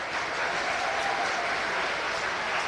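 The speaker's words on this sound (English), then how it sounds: "Round of applause, round of applause." A county fair crowd applauds the grand champion pie at an auction, a dense, steady clapping that fills the space, with faint voices underneath.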